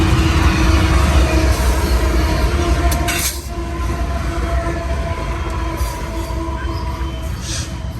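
A train locomotive passes close on a main line track, with a loud continuous rumble of wheels and cars and some metallic ringing tones over it.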